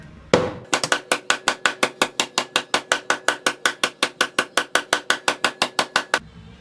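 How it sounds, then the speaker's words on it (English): Loud, close hammering on metal while fitting a part on a V8 Volvo drift car, a long run of sharp, evenly spaced strikes at a quick steady pace, about four per second, with no talking. "Gotta hammer this crap in"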